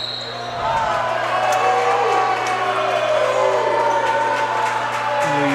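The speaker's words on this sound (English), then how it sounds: "Some crowd reaction happening here, I believe" A basketball game crowd in a high school gym swells into cheering and shouts after a quiet start, loud and sustained with a ball bouncing on the court.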